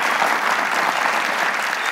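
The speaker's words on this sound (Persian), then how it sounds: "بسیار عالی، دوستا تشویقشان کنه." A studio audience on the Family Feud-style game show Ro Dar Ro claps in steady, dense applause, loud and continuous with no voices over it.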